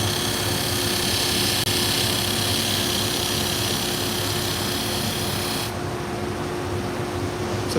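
Curved pet grooming shears being sharpened, a continuous close grinding rasp with a steady mechanical hum underneath that holds even throughout and thins out slightly near the end.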